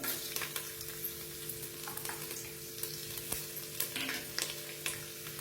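Peanuts and garlic frying in oil in a pan, a steady close sizzle with scattered crackles and the scrape of stirring throughout.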